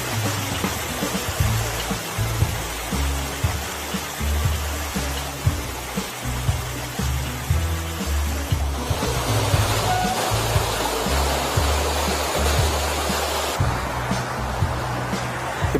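Water pouring down through a canal lock as the level drops, a loud continuous rushing roar with throbbing low surges, close and steady throughout.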